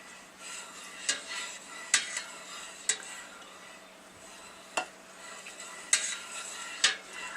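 A spoon stirs dye mix into a pot of water while dyeing yarn, giving a run of soft swishes with sharp metallic clinks against the container every second or so, close up and with no talk.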